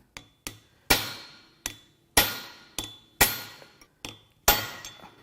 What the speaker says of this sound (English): Let's go get a real chisel. This'll do it.